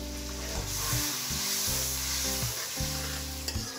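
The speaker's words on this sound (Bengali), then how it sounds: "আমি এখন এই মশলাটাকে 1 মিনিটের মতো ভুনা করে নিচ্ছি" Spice paste sizzles steadily in oil left from frying fish, with a fish head in the pan, a loud continuous frying hiss broken by a few stirring scrapes.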